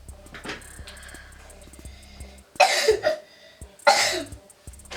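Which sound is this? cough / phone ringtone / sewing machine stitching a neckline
cough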